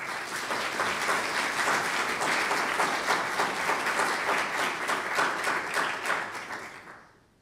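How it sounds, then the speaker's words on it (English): An audience claps to welcome a speaker at a public talk on cannabis use in Dunedin, with dense, sustained applause that holds steady for several seconds and then fades out at the end. "Thanks for that rousing welcome, Abe."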